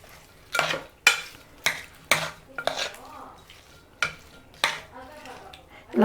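A ladle stirs garlic and sesame-cake curry with tempering oil in a metal pan, close by. It gives a rhythmic run of about eight scraping, clanking strokes over a faint sizzle.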